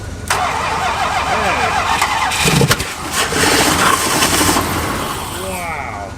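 A big block Chrysler engine left unrun for 35 years cranks and catches with a loud sputtering rumble, then settles into a rough idle, while people talk excitedly over it.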